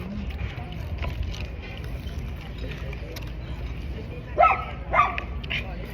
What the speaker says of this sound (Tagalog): Yung aso niya pag may nakikita ng aso, nagwawala.